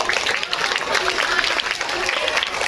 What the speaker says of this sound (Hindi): इन सब के लिए जोरदार हम लोग तालियां बजाएंगे